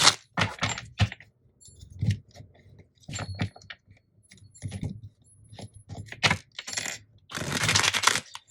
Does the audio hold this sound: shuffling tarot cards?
yes